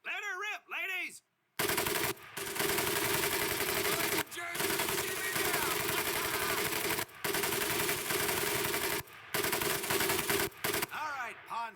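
Sustained machine gun fire in the video game Medal of Honor: Pacific Assault, heard as long loud rattling bursts separated by brief pauses, with a voice speaking at the start and end.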